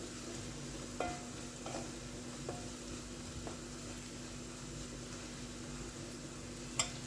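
Rice and chicken seasoned with seven spices, cumin and dried coriander stirred in a frying pan: a steady soft sizzle with a few faint scrapes and taps of the utensil, no talking.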